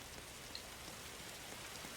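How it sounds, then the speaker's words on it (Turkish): Steady rain falls in the Roblox game world, a continuous even hiss of drops with no voices over it. "Ay şimdi yağmur yağıyor."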